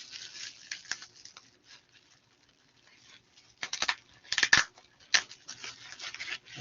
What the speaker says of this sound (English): Open it up, unwrap